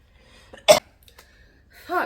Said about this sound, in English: that cough was a lot